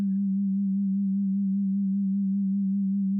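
An FM synthesis tone from Ableton Live's Operator synth holds a steady, low, pure hum with a slight wobble, sounding alone and unchanging throughout.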